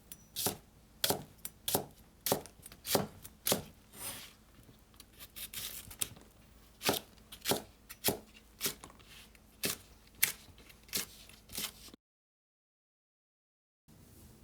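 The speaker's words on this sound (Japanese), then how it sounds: "1センチ幅の斜め切りにしていきます。" A knife slices wakegi green onions on a cutting board into 1 cm diagonal pieces for niku udon, sharp crisp taps in a quick uneven rhythm, close and clear with no talking.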